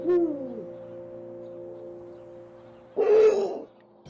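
A Eurasian eagle-owl in the mating season gives a deep, wavering hoot, then a louder, rougher call about three seconds later, over a steady low background tone.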